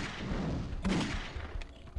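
Dense, continuous gunfire and explosive thuds from the shooter game Pixel Gun 3D fill the mix, with a heavier burst near the middle and sharp cracks toward the end.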